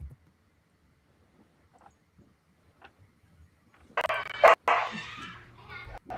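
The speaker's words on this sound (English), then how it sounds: "he even had a cane corso barking" A cane corso barks close by in a short burst of loud, deep barks near the end, after several seconds of near silence.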